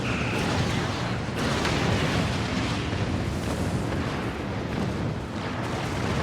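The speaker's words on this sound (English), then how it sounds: "Fire the torpedoes." Space battle in Star Trek Online with torpedoes firing and exploding, a dense continuous rumble of blasts and booms filling the whole stretch, loud and unbroken, with no talk over it.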